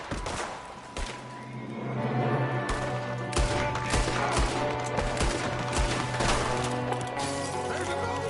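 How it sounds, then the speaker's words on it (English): Dense, continuous gunfire in a Red Dead Redemption 2 shootout, with rapid overlapping shots and sharp cracks over a steady loud background. "There's another one shooting from the window."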